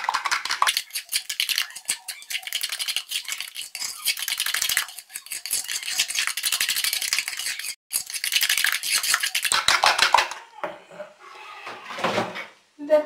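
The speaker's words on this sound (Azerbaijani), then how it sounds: "Qarışdırırıq." A spoon stirs batter for milk oladi pancakes, thickened with flour, and scrapes round and round a bowl in a rapid, continuous rhythm. The sound is close and loud, with a few pauses and clinks near the end.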